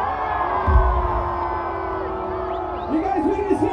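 A live rock concert crowd in Huntington Beach cheers and shouts loudly and continuously, with whoops rising near the end and a sustained roar throughout.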